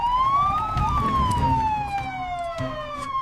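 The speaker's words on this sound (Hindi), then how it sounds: "ये सायरन की आवाज, लगता है पूरी फोर्स यहां आ रही है।" A police siren wails loudly, its pitch sliding up and then slowly falling, with traffic rumble underneath.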